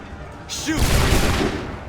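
A musket volley erupts in Assassin's Creed 3, a burst of overlapping gunshots in a single rolling boom with a shouted command just before, loud and close in a game battle.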